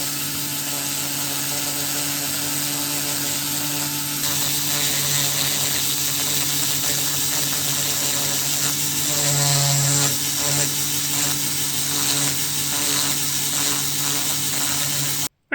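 Dremel rotary tool with a sanding attachment shaping a carved spoon: a steady high whine with a low hum beneath, running continuously and close, with a slight rise partway through.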